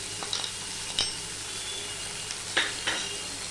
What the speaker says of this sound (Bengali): সব মিশিয়ে নিয়ে আর একটু ভালো করে আমি ভেজে নেব